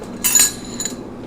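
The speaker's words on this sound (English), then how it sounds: "It's mayo with some relish, and we're just going to stir it up" A spoon clinking against a bowl while stirring a special sauce of mayo and relish: two short bright metallic taps close by, the first louder, over a quiet background.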